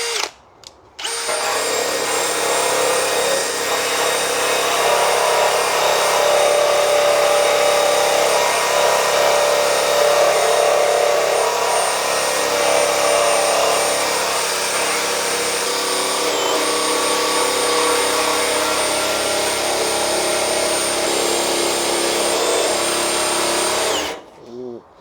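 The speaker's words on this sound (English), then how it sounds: "We're now going to compare it to the brass." Loud, continuous whir of a power tool spinning a brass wire wheel against a Porsche 944 part, a steady grinding scrub that runs unbroken for over twenty seconds before cutting off abruptly.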